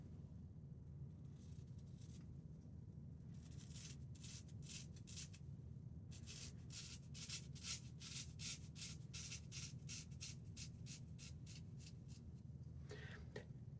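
Quiet rhythmic scraping of a razor shaving, short rasping strokes in quick repeated runs with brief pauses, very close and soft with no talk.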